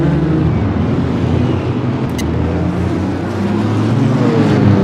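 GT4 racing cars, a BMW and a Toyota Supra, battle wheel to wheel at the Miami Grand Prix circuit, their engines roaring loudly and steadily throughout with a continuous close drone.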